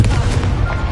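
Spells cast in a Harry Potter video game set at Hogwarts: a loud, booming, gunshot-like magical blast with heavy low rumble, brief and close.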